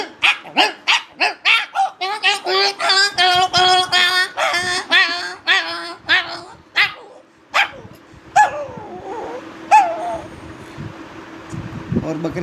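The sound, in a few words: voice imitating a big dog and puppy fighting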